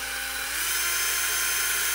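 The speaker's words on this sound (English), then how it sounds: "So I literally just stuck the magnet to the end of my cordless drill." A cordless drill spins with a magnet stuck to its chuck end, giving a steady high-pitched motor whine that stays constant and close for the whole stretch, with no voices.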